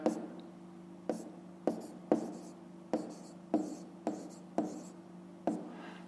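Pen writing in a school notebook while solving a 5th-grade fraction math exercise: a series of about ten distinct, evenly spaced pen strokes and taps, close and clear, over a steady low hum, with no talking.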